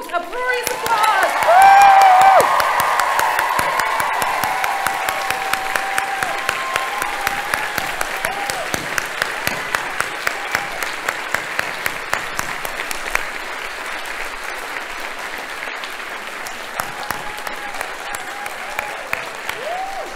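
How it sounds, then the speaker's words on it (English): Audience applause fills a church plenary assembly, a broad steady clapping that swells early and then settles into a long even patter, with scattered individual claps continuing as it fades. "now, folks, a brief applause"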